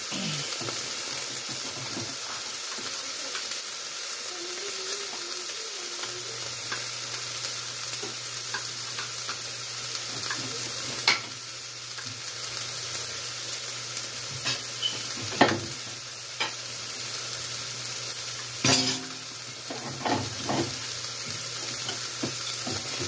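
Green pepper frying in a pan at home, a steady loud sizzle and hiss throughout with intermittent scraping and clattering strokes of stirring, no talking.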